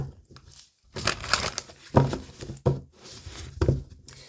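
Tarot cards are shuffled by hand in several quick bursts of riffling and rustling, close and fairly loud, with short pauses between the bursts.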